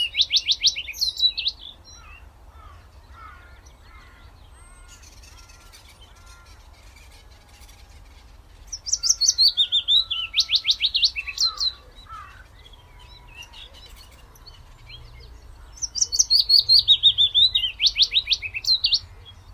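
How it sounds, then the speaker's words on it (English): A willow warbler sings bright, rapid descending phrases in three separate bursts, separated by quieter pauses with faint background calls. "One of the sounds that I think really nails it for spring is the willow warbler song."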